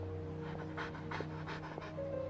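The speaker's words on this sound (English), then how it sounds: "what a well-behaved doggy" A dog panting in the video game Genshin Impact, quick rhythmic breaths close up over soft game music.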